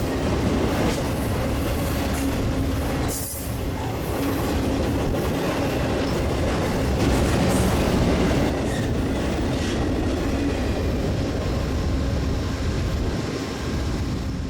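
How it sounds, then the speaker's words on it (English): BNSF intermodal freight train heading toward Los Angeles, passing Fullerton Station with a Norfolk Southern locomotive third in the consist; a loud, steady rumble of wheels and railcars with clickety-clack and faint wheel squeal, continuous throughout. "was met with a BNSF intermodal train heading towards Los Angeles"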